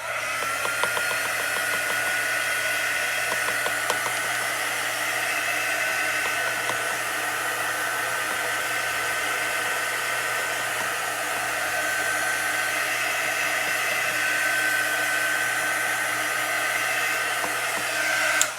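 A hair dryer blows continuously and loudly at close range for the whole stretch, drying a Chalk Couture door tag, its steady whine and airy rush holding nearly unchanged throughout with no talking.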